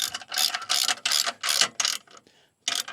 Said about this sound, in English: Tighten everything up.